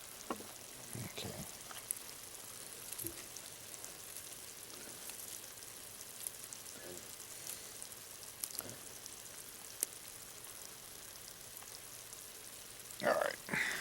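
Chili ingredients simmer in a pot with a soft, steady sizzle and bubbling throughout, punctuated by a few faint clinks and stirring sounds, with a brief louder knock near the end; no one speaks.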